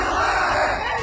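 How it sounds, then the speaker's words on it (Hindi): A large crowd at a funeral gathering in Shopian, Kashmir chants and yells slogans in unison, a loud massed roar of voices close by that holds steady and then tails off slightly at the end. "जहां भीड़ थी, हथियारबंद आतंकी थे और नारे लगाए जा रहे थे"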